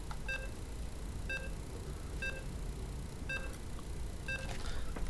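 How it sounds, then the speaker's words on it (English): StarCraft 2 match countdown timer beeping, five short evenly spaced electronic tones about a second apart over a steady background hum. "The countdown timer starting."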